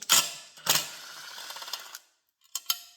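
Two 10mm bolts come off the clutch cover of a 2007–2008 Honda CBR600 motorcycle: sharp metallic clicks, a short ratcheting rattle, a pause, then two more quick clicks close by.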